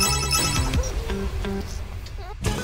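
A phone rings in a cat rescue video game, a short electronic ringtone among game music and effects, with a voice speaking over it.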